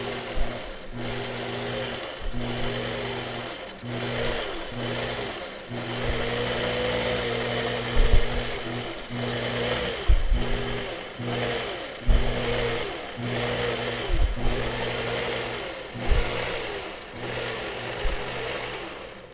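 Longarm quilting machine stitching a pantograph design, a steady whirring motor hum with rhythmic needle chatter that swells and eases as the head moves, running continuously for about twenty seconds.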